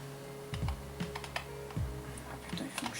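Typing on a computer keyboard comes as scattered, uneven keystroke clicks over a steady background hum, fairly quiet and with no talk.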